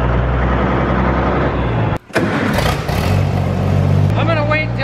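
A car engine rumbles nearby as it is driven back and forth, rising and easing with a brief gap partway through. People talk over the engine noise.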